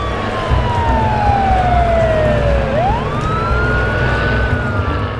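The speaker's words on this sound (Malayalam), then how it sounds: "വാഹനങ്ങളുടെ സൈറൻ വിളികളും മുഴങ്ങി." Police vehicle sirens wail in long falling and rising sweeps, with a second siren overlapping, over a low rumble of traffic and engines.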